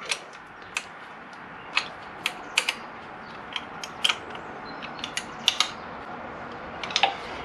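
A wrench ratchets on bolts of a Suzuki SV1000 motorcycle, a series of faint, crisp clicks at irregular intervals, some in quick pairs, against a quiet room hiss.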